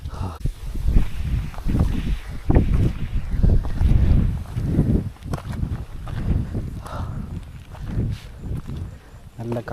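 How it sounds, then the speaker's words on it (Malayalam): Strong gusty wind on the Illikkal Kallu hilltop trek buffets the microphone in heavy, uneven rumbling surges, with footsteps and voices mixed in throughout. "നല്ല കാറ്റുണ്ട്."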